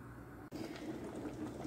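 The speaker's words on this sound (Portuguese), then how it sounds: "fecho a panela de pressão, deixo na pressão de 20 a 30 minutos" Pressure cooker with feijoada and ossobuco simmering under pressure: a steady bubbling, hissing boil that runs on continuously at moderate level after a brief cut near the start.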